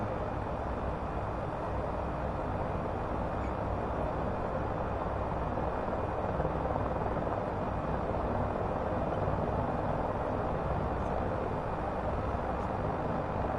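A Hiller UH-12B helicopter starts up in Microsoft Flight Simulator 2024, its engine giving a steady, broad low rumble and whine that holds evenly throughout with no voices over it.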